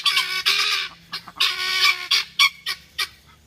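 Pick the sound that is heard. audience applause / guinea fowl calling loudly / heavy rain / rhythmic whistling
guinea fowl calling loudly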